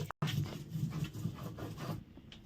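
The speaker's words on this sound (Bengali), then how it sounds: "আদা রসুন আর এই যে কাঁচা লঙ্কা নিয়েছি এখন একসঙ্গে তাড়াতাড়ি বেটে নেবো" Ginger, garlic, green chili and onion are ground together into a paste, giving a quiet, close, rhythmic rubbing and scraping.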